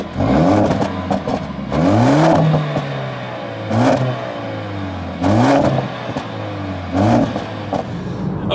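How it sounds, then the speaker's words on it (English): A Mercedes A45S AMG engine is running and revved in repeated bursts, about five sharp throttle blips rising and falling over a steady idle, loud and close. "now it's going to be time to start up the car, give you a few revs and then take it out for a drive"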